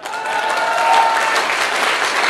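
An audience at a Safe Shop motivational event breaks into loud, sustained applause, a dense wash of clapping from many hands that fills the whole moment without letting up.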